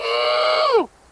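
One held, nasal hoot from a person imitating a flammulated owl. It is close and steady, then drops sharply in pitch and cuts off after about a second.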